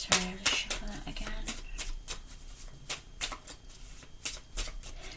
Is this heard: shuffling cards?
yes